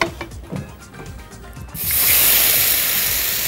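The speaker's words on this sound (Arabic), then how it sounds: "ندي تحميصه سريعه للخوخ على النار" Peaches hit a hot pan for a quick roast and burst into a loud, steady sizzle that starts abruptly partway through after a few quieter kitchen clinks.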